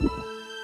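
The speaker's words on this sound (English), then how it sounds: "Millions of them work together to give us a heartbeat." A single deep heartbeat thump opens the moment, then fades into a soft, sustained tonal hum that lingers to the end.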